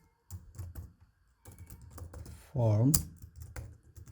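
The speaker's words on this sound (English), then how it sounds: "now I will type HTML5 and change the title" Keys clatter on a computer keyboard during an HTML coding lesson, arriving as short uneven bursts of quiet taps while someone talks over them, with one brief louder vocal sound near the middle.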